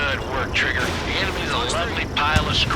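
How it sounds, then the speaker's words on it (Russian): A missile fires in the video game Ace Combat 7, giving a sustained roaring whoosh of rocket and jet noise with tonal sweeps, while someone talks over it. "О, вот это нормальная ракета."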